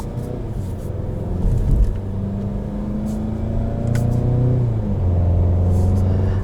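A 2020 Volkswagen Golf GTI S with a DSG gearbox accelerates in manual mode, its engine note rising in steady harmonic sweeps that dip briefly at each quick gear change, loud and continuous from inside the cabin with no talking.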